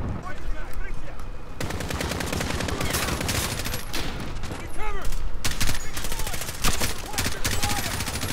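Rapid automatic gunfire from the video game Modern Warfare, loud bursts of shots with whizzing sweeps over dense in-game action, continuous through the stretch with heavier volleys midway.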